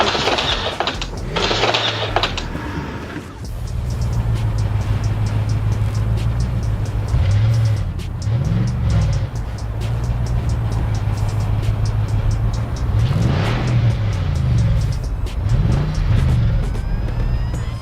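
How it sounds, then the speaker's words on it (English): A Jeep's engine strains loudly in a steady, close drone with repeated revving swells as it struggles up a brick road, its big tires tearing into and dislodging the bricks. No voices. "The Jeep's massive, powerful tires tore into the brick road as it struggled to climb upward, cracking and dislodging the bricks beneath it."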